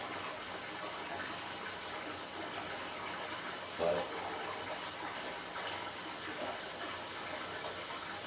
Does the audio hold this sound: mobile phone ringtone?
no